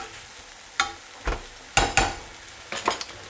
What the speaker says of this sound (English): So let that sizzle for a minute.